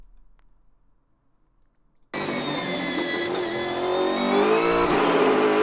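After about two seconds of near silence, a race car engine heard onboard cuts in loudly and revs steadily higher, close and continuous to the end.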